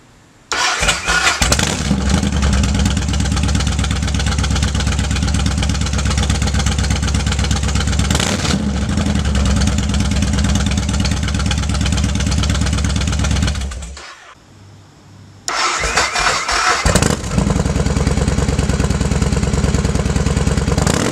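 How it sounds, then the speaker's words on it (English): A Yamaha Warrior 1700 motorcycle fitted with a Cobra Swept exhaust, recorded right at the tailpipe, runs with a loud, deep, steady rumble that dies away briefly near the end before the engine fires up again. "moved the camera right up next to the exhaust, and I hope that would kind of give us the best sound out of it"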